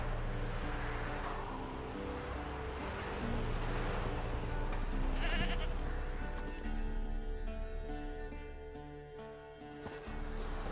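A goat in The Witcher 3 bleats repeatedly over a wash of ambient surf-like background, the calls moderately loud and drawn out, with no voices heard.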